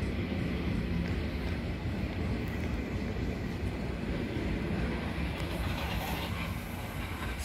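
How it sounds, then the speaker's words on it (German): A new T2 subway train rumbles and rattles past in a steady, loud roar, with clattering wheels on the rails throughout. "So, da fährt die neue U-Bahn T2."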